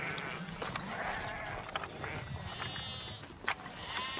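Sheep bleat in a field on a farm, several overlapping calls near and far over a dense, noisy outdoor background.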